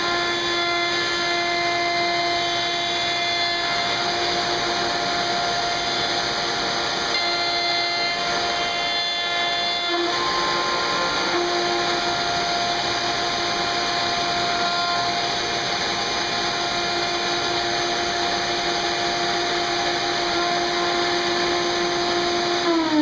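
A router running steadily while pattern routing a wooden form for a pedestal extension table, a loud continuous whine with a brief dip near the middle and no talk.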